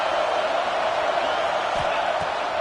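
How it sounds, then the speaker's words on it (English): A stadium crowd roars in the NCAA 2025 college football video game, a dense, steady wall of cheering noise with a couple of faint low thumps near the end. "Listen to this crowd just shaking the girders of this place"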